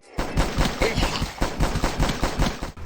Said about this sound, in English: You shoot things fast.